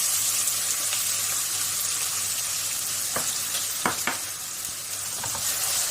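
Onions sizzle steadily in hot oil, a continuous bright hiss with a few sharp crackles and spatters midway, close and alone with no talking.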